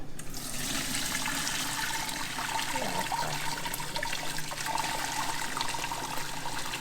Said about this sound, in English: I'm just going to take the cooked necks and backs and I'm going to pour it.